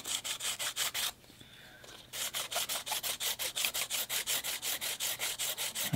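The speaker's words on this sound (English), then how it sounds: "I think I'll try dry sanding it first. I'm using 400 grit." Rapid, regular back-and-forth strokes of 400-grit sandpaper dry sanding a 3D-printed bonsai pot, with a brief pause before the rhythmic scratching resumes even faster.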